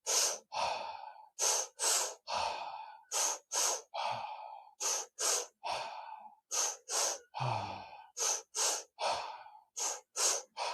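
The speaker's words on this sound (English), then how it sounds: "Lower lungs, suck in, squeeze, upper lungs, and breathe out." Deep, active breathing in a meditation exercise: a regular series of forceful inhales and exhales, close and clear, with short silent gaps between breaths.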